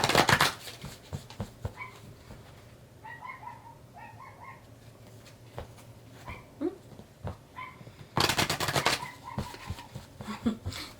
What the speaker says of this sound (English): Excuse my doggy in the background.